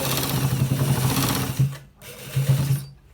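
Close, loud whirring of a sewing machine stitching a shirt runs almost continuously, breaking off briefly in two short pauses before resuming at the same rapid pace.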